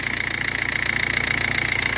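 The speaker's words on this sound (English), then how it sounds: "so the engine works fine." A rebuilt engine in a Ford C-Max Titanium runs at a steady idle, a loud close mechanical drone with an even rapid pulse and no voices.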